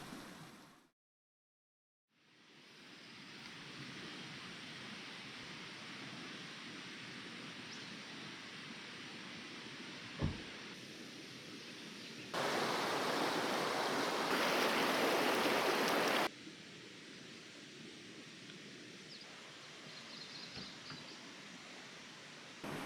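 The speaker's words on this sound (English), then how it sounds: "The sound of the water was really nice behind us all night." Steady broadband rush of a stream flowing through the night beside a campsite near Jarbidge, Nevada, continuous and fairly close, with a brief silent gap near the start and a louder burst of water noise midway.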